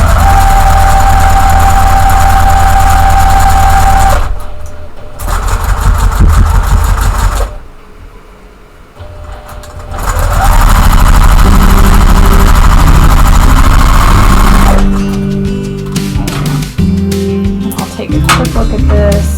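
A sewing machine stitches quilt block seams for a basket block, running as a loud, steady, close whir in long bursts broken by short pauses.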